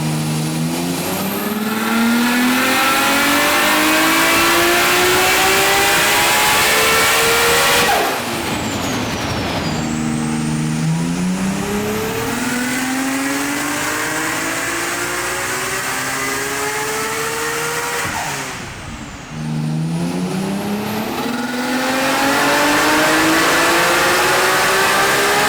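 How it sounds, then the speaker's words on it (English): Nissan R32 GT-R with an RB26 engine on a dyno, revving hard in long rising pulls that climb to a high scream, drop off, and then climb again, very loud and close for the whole stretch. "we put the car on the dyno,"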